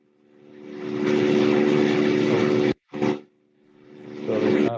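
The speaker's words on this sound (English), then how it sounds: "that's my helicopter flying to pick me up" Helicopter passing overhead, a loud steady rotor and engine roar that swells in, cuts off abruptly, returns in a short burst, then builds again; no talking.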